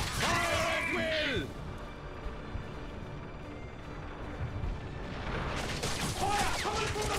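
Gunfire rattles through a Space Marine video game battle among Imperial Fists troops, a dense, steady barrage in the middle, with voices calling out at the start and end.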